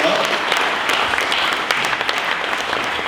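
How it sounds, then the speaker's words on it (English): Breakfast audience at a South Pasadena mayors' event applauds county supervisors, a dense, steady wash of clapping from many hands at close range for about three seconds, with speech faintly present underneath. "Give them a round of applause."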